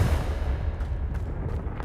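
Confringo blasting curse explosion in Hogwarts Legacy, a heavy, close rumbling blast that rolls on with deep booming crackle.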